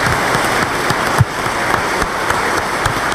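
A church congregation applauds during a Sunday Mass, a steady, dense wash of clapping from many hands that continues without a break, fairly loud and close, with no speech over it.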